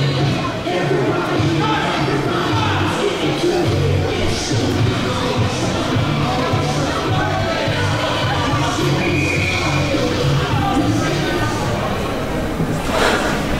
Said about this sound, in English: Got a good crowd on hand watching this game tonight